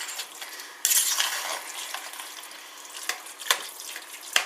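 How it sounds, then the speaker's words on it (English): Fettuccine being stirred while it reheats in a pan, with steady scraping and soft sizzling and sharper utensil scrapes and clinks at irregular moments, close up with no talking. "When you're reheating it, make sure you do keep stirring it and keep an eye on it"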